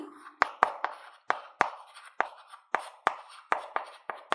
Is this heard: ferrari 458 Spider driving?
no